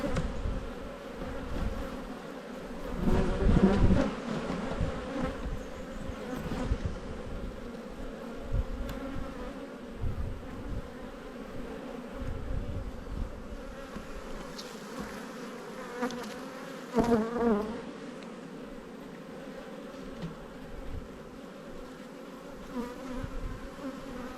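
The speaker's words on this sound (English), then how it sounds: "I'd like more of these bees." Honey bees at a hive buzz in a continuous, close hum that swells and fades, with individual bees droning past the listener.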